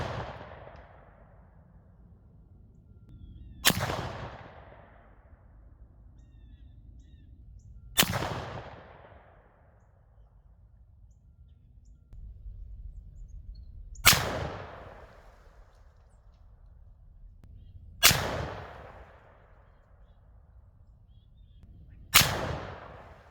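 A Remington 870 shotgun fires Federal Trophy Copper 300-grain sabot slugs outdoors, giving five loud, sharp, widely spaced blasts, each followed by a rolling echo that decays, with faint ambient noise between shots.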